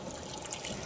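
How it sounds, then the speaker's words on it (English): Yarn soaking in a basin of water before pomegranate dyeing, with a steady close wet trickle and light dripping throughout, no talking. "getting it all soaked in the water. All right, this is soaking."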